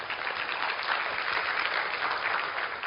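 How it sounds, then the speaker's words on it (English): Dense, steady audience applause fills a hall at a 2015 Riway leadership training event in Indonesia, holding at an even, loud level from start to finish with no voices on top. "Everyone give her a big clap."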